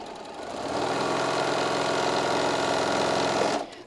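A sewing machine runs steadily for about three seconds while stitching a seam in quilt blocks, a close, rapid mechanical whir with fine rhythmic clatter that starts up and stops abruptly.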